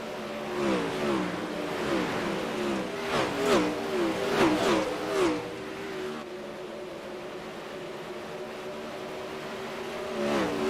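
360 sprint cars race through a dirt-track heat after a single-file restart, several engines revving and whining past in overlapping rising and falling passes, loud then fading to a distant roar, with no talk over it.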